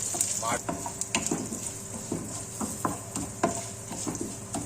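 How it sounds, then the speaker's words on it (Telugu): A tempering of garlic, cumin, coriander and mustard seeds sizzling in oil for a gongura curry, a soft steady fry punctuated by repeated spoon scrapes and clinks against the pan, fairly quiet and close. "తాలింపు రెడీ అయిపోయింది"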